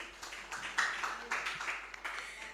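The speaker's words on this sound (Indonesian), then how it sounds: "Tepuk tangan sekali lagi." Seminar audience clapping, a soft scattered round of applause from a modest crowd in a hall, faint and uneven, swelling briefly before tapering off.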